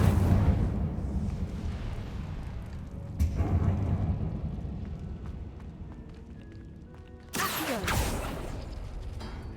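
Incendio fire spell cast in Hogwarts Legacy, a loud roaring burst that fades into a crackling rumble, followed by a second sharp whooshing blast near the end.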